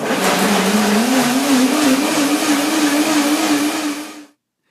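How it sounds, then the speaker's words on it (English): A blender blending curd runs steadily at high speed with a constant whirring drone, close and loud, then cuts off abruptly near the end. "And already I begin the blender dance."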